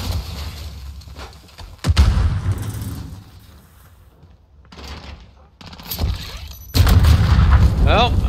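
Gunfire and explosions in the Call of Duty: Modern Warfare video game, Hardcore Team Deathmatch on the Gun Runner map, with loud bursts around two, six and seven seconds over a rumbling battle bed.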